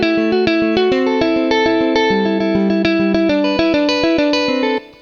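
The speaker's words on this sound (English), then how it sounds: "now I'm using the guitar release just to make the notes sustain a little bit longer" Ambient electric guitar arpeggio from the Modus & Forma instrument with long release, plucked notes in a steady pattern ringing and overlapping with chorus-like shimmer, ending abruptly.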